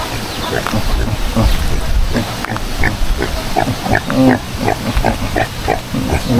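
Native pigs on an onion farm grunting and oinking in a steady run of short calls, close and fairly loud, with people talking over them throughout.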